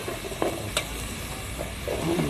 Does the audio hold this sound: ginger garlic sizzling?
yes